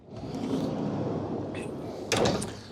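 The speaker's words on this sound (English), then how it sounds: "Sliding door." Sliding door of an IVECO eDaily electric van rolling along its track, then closing with a sharp latching thud near the end, close by and fairly loud.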